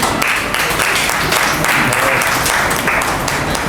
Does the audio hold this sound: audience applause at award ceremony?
yes